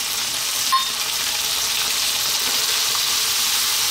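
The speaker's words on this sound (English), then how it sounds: "Let's just throw this around in the pan for a few seconds." Homemade curry powder, one heaped tablespoon, frying and tossed in a hot pan, giving a steady, close, even sizzle with a faint clink near the start.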